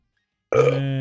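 A single loud, close burp starts halfway through and holds as a long voiced belch to the end, after a moment of silence, with no talking.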